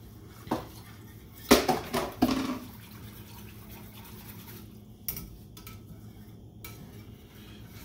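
Flour being stirred into a white sauce in a pot for chicken enchiladas, with a few sharp scrapes and clinks of a utensil against the pot, then softer intermittent stirring.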